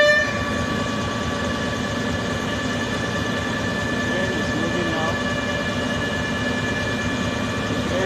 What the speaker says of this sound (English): The train is moving now from Rigasa to Edo Station, Abuja.